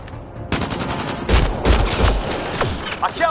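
Mass Effect Andromeda gunfire erupts after a quiet start into loud rapid bursts of shots and heavy impacts, with a voice speaking briefly under the firefight.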